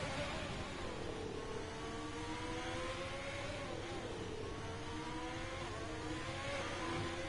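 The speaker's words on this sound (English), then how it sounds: "You can hear from Arno's onboard there's a lot of short shifting" A Formula 1 race car engine in a video game at the Singapore circuit whines and climbs, dropping in pitch at quick short-shifted gear changes, with steady motor noise throughout and no voices.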